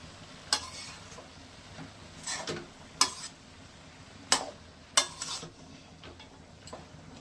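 Cabbage curry with turmeric and sugar being stirred in a pan, a soft sizzle beneath several sharp spatula knocks and scrapes against the metal at irregular intervals.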